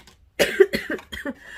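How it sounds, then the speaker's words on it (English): A few sharp coughs in quick succession from a person who has a cold and is sneezing with a runny nose, close and fairly loud, with nobody speaking. "I keep sneezing and coughing and my nose keeps running"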